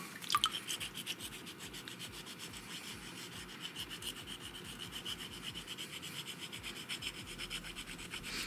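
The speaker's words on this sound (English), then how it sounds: "I'm just sanding them down gently with the water" Carbon fiber on a quad is wet sanded gently by hand, with rhythmic back-and-forth rubbing strokes repeating steadily and close up, and no talking.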